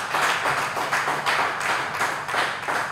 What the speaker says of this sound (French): Merci d'applaudir Cédric